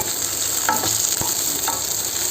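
Chopped onions fry in hot oil for a mango curry, giving a loud, continuous sizzle close by with a few light stirring clicks.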